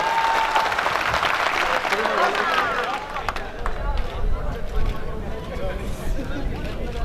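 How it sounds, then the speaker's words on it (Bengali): Audience applause at a student farewell ceremony for the 15-16 session: a sustained, dense clapping roar that fills the room, with crowd murmur and voices mixed in and slowly thinning toward the end. "ওর জন্য আমরা একটা বড় হাততালি হয়ে যায়।"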